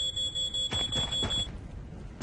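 Fire alarm in a paranormal video game beeping in rapid pulses with a high tone, then cutting off as heavier clunking handling sounds take over near the end, no voices.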